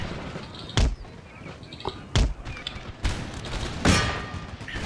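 Musket volleys crack out in a real-time strategy battle, several sharp broadband blasts spaced a second or two apart over a steady ambient battlefield din.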